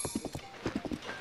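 Horse hooves clip-clopping in a steady trotting rhythm while riding in Zelda: Breath of the Wild, close and clear with a brief whinny-like tone, no talking.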